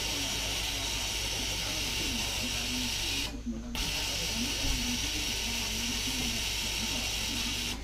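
A coffee machine at a café on Doi Phu Kha mountain in Nan, Thailand, gives off a loud, continuous steamy hiss with a low droning hum beneath, breaking off briefly midway before resuming.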